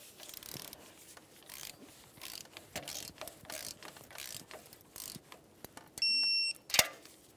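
A torque wrench ratchets in quick, even clicks while tightening exhaust manifold bolts to 23 foot-pounds on a 2012-2018 Nissan Altima, close and crisp, then a short electronic beep and a sharper click near the end.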